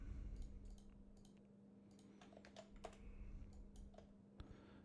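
Touch typing on a computer keyboard gives a faint, irregular run of soft key clicks over a low steady hum.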